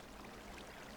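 A bucket scoops up water in the Minecraft video game, giving one short, close splashing pour of about a second with no talk.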